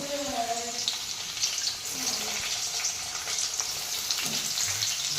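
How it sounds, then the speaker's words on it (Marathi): Crushed garlic and finely chopped onion sizzle in hot oil during tempering, a steady broadband crackle close by with brief clinks of a utensil against the pan. "आता मी फोडणीमध्ये ठेचलेलं लसूण टाकते"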